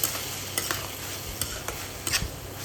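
Homemade Malvani masala fries with onions in a pan for a young jackfruit curry, giving a soft steady sizzle with a few sharp stirring scrapes.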